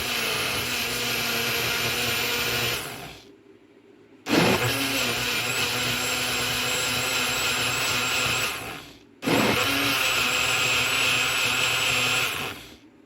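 A blender whirs loudly as it purées a smoothie of strawberry jam, haskap jam, banana, yogurt and spinach. It runs in three long bursts with short silent pauses between them.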